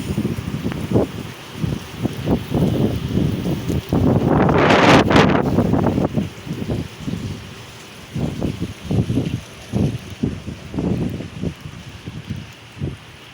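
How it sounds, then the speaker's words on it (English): Strong gusty wind outdoors at Broadmeadow in rain, heavy microphone buffeting in repeated bursts with one long loud roaring gust in the middle, no voices. "Very windy here"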